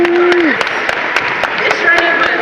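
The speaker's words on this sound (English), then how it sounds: "Let's clap it up." Graduates at a Carrington College ceremony clap together, a steady patter of many hands with a few sharper individual claps and a brief tone at the start.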